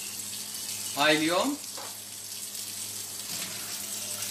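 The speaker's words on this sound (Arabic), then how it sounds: "احد يفهمنا بالكرادة شنو هذا المي؟" Contaminated water runs from a household tap in Baghdad's Karrada district, a steady broadband rush heard close up, with a person speaking briefly over it.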